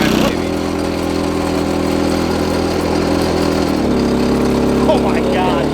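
A generator bolted to a trailer runs steadily at close range, a loud continuous engine drone with a slight drop in pitch partway through, while people talk over it.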